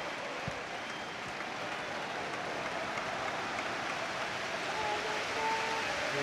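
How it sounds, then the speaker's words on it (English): A stadium crowd at Anfield applauds during a Liverpool versus Roma football match, a steady, distant hiss of clapping that sounds almost like rain and goes on throughout. "applause ringing around Anfield here for Alex Oxlade-Chamberlain"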